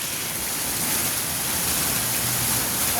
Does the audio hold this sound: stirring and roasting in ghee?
no